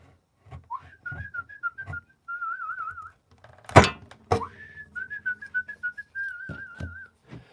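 A person whistles a wavering, trilling tune in two phrases, close and fairly quiet, broken by soft knocks and a sharp thump in the middle.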